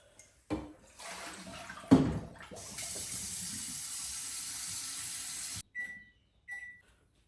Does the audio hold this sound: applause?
no